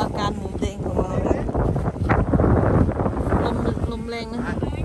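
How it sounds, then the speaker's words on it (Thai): Strong wind buffets the microphone outdoors in a continuous, loud roar with gusty surges and rustling, while someone speaks briefly over it. "ลมแรงนะคะ"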